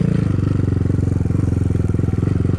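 A BSE 250 enduro motorcycle rides through a forest, its single-cylinder engine chugging steadily and close by with a fast, even pulsing throb throughout.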